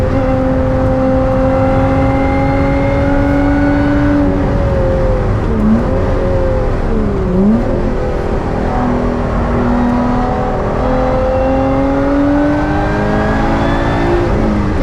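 Lotus Exige S lapping the Nürburgring, its engine droning loud and close in the cabin, pitch climbing steadily under throttle, dipping twice as gears change with rev-matching blips, then pulling hard again.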